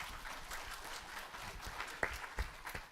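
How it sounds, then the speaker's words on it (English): Audience applause at a national climate governance summit, a fairly faint, steady wash of clapping from a crowd with a couple of sharper claps standing out near the end. "a round of applause for Hari, please."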